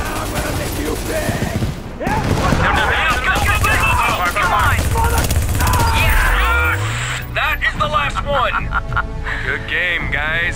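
Gunfire in a video game firefight, with dense bursts of rapid shots and mechanical clatter under near-constant excited shouting from several people, alongside other game sounds.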